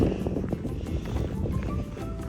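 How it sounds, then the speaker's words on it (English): Steady wind blows across the microphone on a hiking trail in Solstice Canyon, Malibu, a constant low rumbling roar with gusty buffeting throughout. "It's getting windy."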